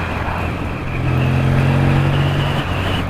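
A Triumph motorcycle engine fed by AMAL carburettors pulls away with a steady, close, low throbbing drone that swells slightly after the first second and holds until near the end.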